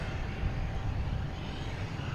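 Airliner taxiing at Boston Logan Airport, a steady broadband engine roar with heavy low rumble that holds constant and fairly loud throughout, with no talk over it.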